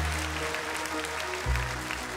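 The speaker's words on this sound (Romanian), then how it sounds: "Oamenii se ridică și aplaudă atunci când simt ei, nu sunt puși" Audience applause ringing through a talent show hall after a singer's performance, a steady wash of clapping beneath faint background music over a couple of seconds.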